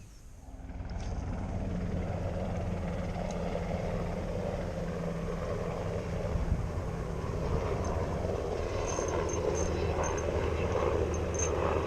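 A helicopter drones steadily overhead for the whole stretch, a constant rumbling engine noise with no talking.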